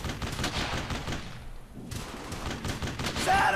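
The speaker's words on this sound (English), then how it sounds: "And there's a fucking machine gun up there." Machine gun fire crackles in Brothers In Arms: Hell's Highway, with dense, rapid bursts of loud, close gunshots that drop out briefly in the middle and then resume.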